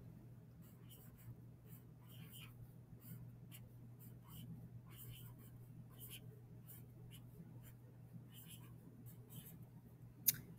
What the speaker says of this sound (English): we are going to write a title at the top